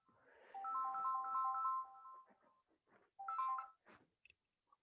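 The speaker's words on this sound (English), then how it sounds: "My phone is ringing, but let's just switch it off." A mobile phone ringtone plays a repeating electronic melody in two bursts, the second shorter, fairly close and clear with no talking over it.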